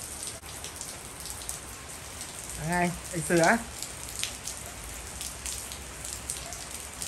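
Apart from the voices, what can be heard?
rain falling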